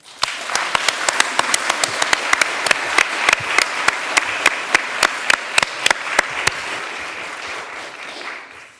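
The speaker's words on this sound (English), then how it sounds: "Let's welcome our speakers with a round of applause, please" A debate audience applauds to welcome the speakers with sharp, distinct handclaps close by, some individual claps standing out from the crowd's steady clapping, which holds for about seven seconds and then fades away.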